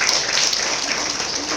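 Audience applause in a hall during a talk, a brief burst of mixed clapping from a crowd, moderately loud and steady for under two seconds before fading slightly.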